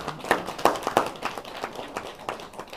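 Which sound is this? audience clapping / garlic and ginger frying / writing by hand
audience clapping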